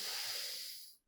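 A single long, breathy exhale through the mouth during a cooling yin yoga breathing exercise, close and airy, fading out to silence after about a second.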